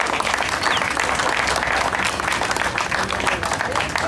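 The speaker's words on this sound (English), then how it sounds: "So a round of applause for successes over time." An audience at a 2013 ADA celebration keynote gives a round of applause, dense and steady clapping from a crowd filling the room, sustained at even loudness throughout.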